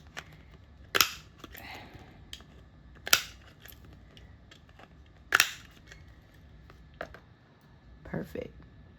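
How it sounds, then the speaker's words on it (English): A corner cutter rounds the corners of a printed fine art prints display label, giving three loud, sharp snapping clicks about two seconds apart, followed by a couple of softer clicks and light handling noise. "Now we're gonna just cut our corners."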